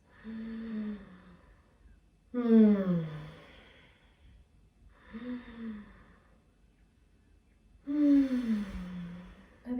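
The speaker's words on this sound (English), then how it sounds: "Inhaling deeply. Exhaling deeply." Deep, slow breathing during a guided relaxation: four long breaths alternate between inhaling and exhaling, each a soft, close airy rush separated by brief quiet pauses.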